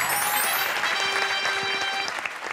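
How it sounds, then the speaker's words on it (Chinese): Studio audience applause on a Taiwanese dating talk show, a dense, continuous patter of clapping mixed with background music. "掌声鼓励"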